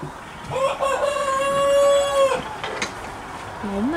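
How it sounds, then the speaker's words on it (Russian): A rooster crows loudly once with a long sustained call, with hens clucking softly around it in a farmyard. "Курочки."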